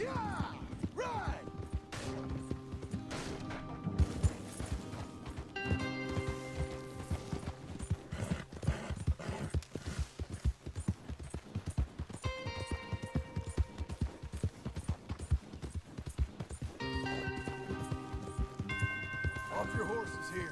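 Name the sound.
horses galloping hooves, from video game Red Dead Redemption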